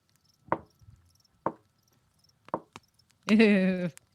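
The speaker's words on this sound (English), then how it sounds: "Just slow, creepy, deliberate knocking." Slow, deliberate knocking on a door, three single sharp knocks spaced about a second apart, close and distinct in a quiet room, followed by a brief voiced sound at the end.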